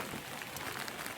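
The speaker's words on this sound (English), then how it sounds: "So it's hailing as well." Hail falling outdoors on a fell during a wild camp, a dense continuous pattering hiss of ice pellets striking surfaces, steady and fairly loud with no talking.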